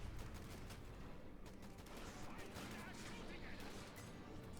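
Faint, dense gunfire from a Company of Heroes 2 battle between Wehrmacht and US forces, with rapid machine gun bursts and scattered shots blending into a steady rattle under the noise of the battle.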